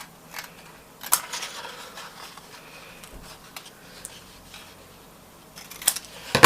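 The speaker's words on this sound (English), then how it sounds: "and then we're going to cut this bit out" Scissors cutting card for an envelope box, a few crisp, close snips spaced apart, with quiet handling in between and a sharper burst of cutting at the end, no talk.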